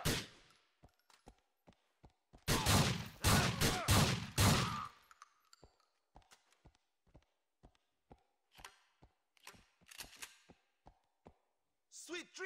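Gunfire in the video game GTA 4: a dense burst of rapid shots roars for a couple of seconds, then sharp single shots crack at irregular intervals, loud and close.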